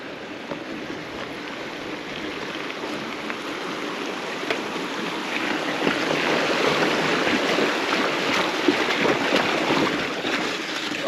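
An electric-assist mountain bike crosses water at Grande Vallon, with a continuous rushing, splashing wash of water that grows louder toward the end, heard alone without talking.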